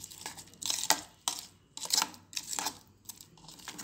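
Ground beetroot chutney stirred and mixed in a bowl, heard as about five close, rhythmic bursts of wet scraping and utensil knocks with brief pauses between strokes.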